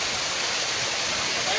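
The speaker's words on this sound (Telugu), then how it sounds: "సో ఇది వాటర్ ఫాల్స్" Steady, loud roar of rushing water from the Tada waterfall, a dense broadband wash that fills the whole short stretch without any break.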